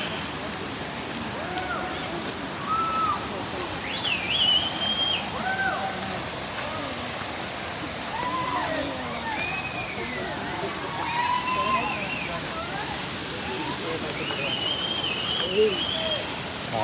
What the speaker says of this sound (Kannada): ಇಲ್ಲೊಂದು ಫಾಲ್ಸ್ ಬಂತು ಚಿಕ್ಕದು, ಸೌಂಡ್ ಕೇಳಿಸ್ತಾ ಇದೆ.